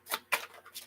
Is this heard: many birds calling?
no